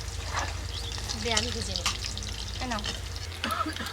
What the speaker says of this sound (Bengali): তেলে আলুগুলো ছেড়ে দিয়েছি তুমি ভাজতে থাকো